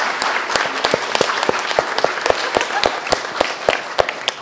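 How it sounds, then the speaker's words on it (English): Audience applause for a group of candidates at a public event, dense steady clapping from a crowd with sharp individual claps standing out, moderately loud and continuous throughout. "let's give a big round of applause for all of our candidates here"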